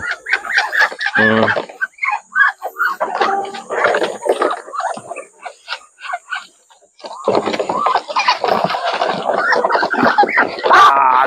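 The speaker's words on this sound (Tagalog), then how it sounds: "Dalawang manok eh." Dekalb Brown chickens cluck and squawk continuously up close, a busy, overlapping chatter of several birds with irregular rhythm.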